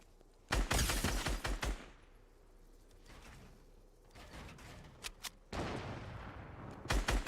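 Gunfire in the video game Fortnite: several loud bursts of rapid shots separated by short gaps, with softer shots and game ambience between them and no talking.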